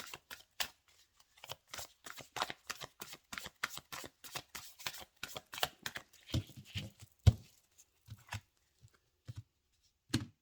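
Tarot cards are shuffled rapidly up close, a long run of crisp riffling flutters followed by slower, scattered slaps and taps.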